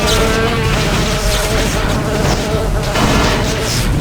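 Continuous loud buzzing from swarming metal mosquito enemies in the video game Daikatana, steady and close with rumbling game effects underneath, no talking.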